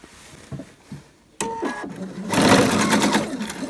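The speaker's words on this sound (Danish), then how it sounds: "Så syr jeg lige henover, så jeg får låst min elastik." A sewing machine stitching across elastic while sewing children's trousers, starting with a few soft taps, then a short burst of stitching and a louder, steady whirring run close by.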